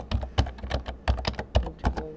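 Fingers tap keys on a computer keyboard in an uneven run of quick clicks, some harder than others, nearby and alone, while entering an activity log.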